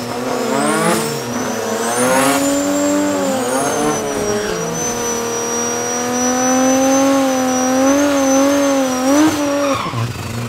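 A BMW drag racing car launches down the strip at Midvaal Raceway in a national drag challenge, its loud engine climbing through several sharp rising gear pulls in a row, with tire noise, fading toward the end.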